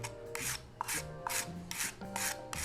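A heavier metallic cleaner scrapes across reef aquarium glass in repeated rasping strokes, about six evenly spaced swipes, close and fairly quiet with no talking.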